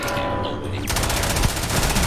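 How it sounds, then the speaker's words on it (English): Sustained rapid automatic weapon fire from a sci-fi video game rattles loud and close in a dense continuous burst, with a sharp shift in tone partway through and no pauses. "I am opening fire."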